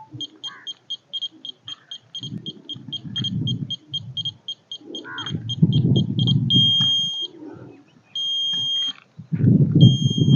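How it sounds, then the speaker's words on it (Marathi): A German-technology water detection device beeps in a quick regular series of high electronic tones, switching to longer, steadier tones partway through, with people talking underneath. "हा बीप बदललं सर पाण्यावर आल्यामुळं."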